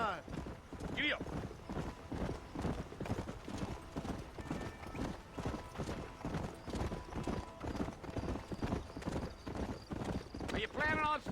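Horse hooves clip-clop at a brisk gallop in the Western video game Red Dead Redemption, continuous and prominent with a whinny, as a voice speaks over the hoofbeats.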